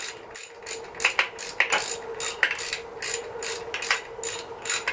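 A ratchet clicks in quick repeated bursts while bolts are tightened on a Yamaha XS650 motorcycle, close and fairly loud, with short pauses between strokes.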